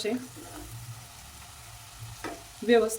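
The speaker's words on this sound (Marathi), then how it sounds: "उरलेले गुलाबजाम पण आपण अशा पद्धतीनं तेलात सोडून घेऊयात. एकदम अशा बारीक फ्लेमवरती आपण याला तळून घ्यायचं." Bread gulab jamun fry gently in oil over a low flame, giving a soft, steady, quiet sizzle with a light stirring clatter and a brief voice near the end.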